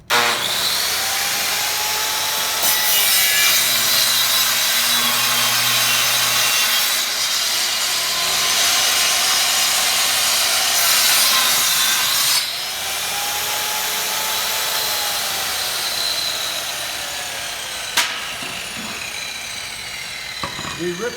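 A panel saw rips a wooden board, giving a loud, steady whining cut that runs continuously for about twenty seconds, dipping slightly midway, with a faint voice beneath it.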